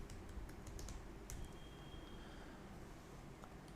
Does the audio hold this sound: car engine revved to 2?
no